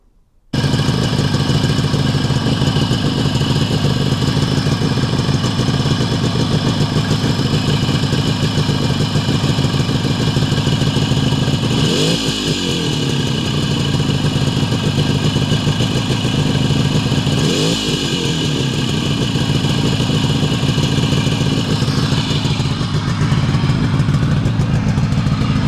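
A 1950s Adler MB250 two-stroke motorcycle engine idles steadily with a rhythmic, slightly clattery thump, close by, with a couple of brief blips in revs.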